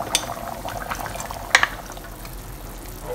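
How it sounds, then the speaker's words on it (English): Chicken stock boils in a covered pot for ginger wine chicken noodle soup, giving a steady broadband bubbling hiss with a couple of sharp clinks near the middle. "Put the lid on and let them come to a boil."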